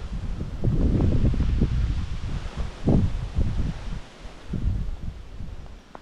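Gusty wind buffets a microphone outdoors, rising and falling in loud rumbling bursts with a rustling texture, no voices.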